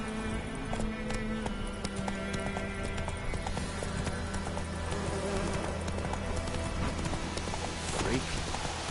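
Roach, a horse in The Witcher, gallops with quick, rhythmic hoofbeats that stay close and steady throughout, with what sounds like a voice in the background.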